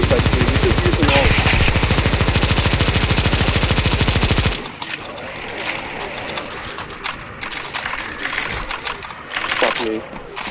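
Rapid, loud, continuous gunfire from the video game CS2 Zombie Escape rattles for several seconds and then breaks into scattered shots and clatter, with someone talking over it.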